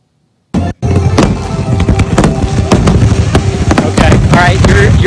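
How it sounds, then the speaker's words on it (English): A fireworks display at an airport air show, rapid loud crackling bursts and sharp pops firing in dense succession after a quiet start, with a few heavier booms, close and continuous. "that was actually the fireworks display out at the airport for the air show"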